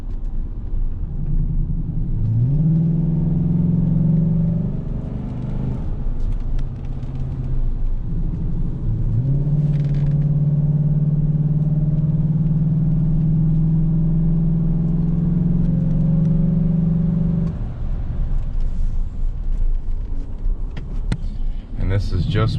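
A 2014 Chevy Silverado 5.3L pickup engine with a cold air intake, its deep rumble heard from inside the cab, droning steadily with pitch rising and settling as it shifts, while a person talks over it.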